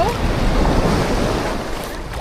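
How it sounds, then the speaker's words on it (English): Ocean surf rolls and crashes onto a Costa Rica shore in a steady, broad roar, close and fairly loud with some wind rumble and no talking. "There's hella waves."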